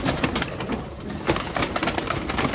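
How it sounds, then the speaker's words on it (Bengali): Pigeons cooing in a rooftop loft on a city building: soft, repeated coos close by, alongside light rustling and other bird calls, with no one speaking. "এটা হচ্ছে আমার সবচেয়ে পছন্দের একটা কবুতর"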